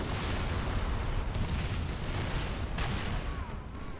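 A grenade blast in Halo: MCC custom-game zombie play: a loud, sustained roar of explosion and gunfire fills the whole stretch with constant crackling bursts.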